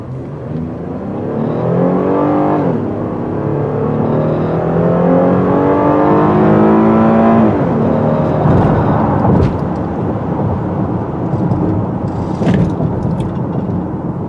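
A car engine revs and accelerates steadily, the pitch climbing in waves as it pulls hard, loud and close, with road noise underneath.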